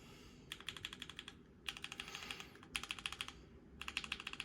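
Keychron Q1 mechanical keyboard in stock, unmodified form, typed in four quick bursts of crisp, close clacking keystrokes separated by short pauses, with no talking.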